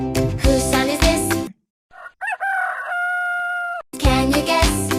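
A rooster crows once, a single drawn-out cock-a-doodle-doo heard close and clear in a gap between loud musical passages.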